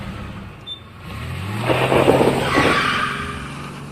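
A car speeds away from a parking lot, its engine and tires building into a loud, rising rush of acceleration with a brief squeal-like skid, heard alone with no talking.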